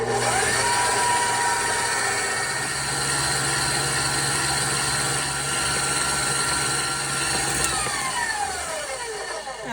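Electric mixer whipping cream for a strawberry Napoleon, a loud steady motorized whir running continuously close up, with a slight pitch drop near the end.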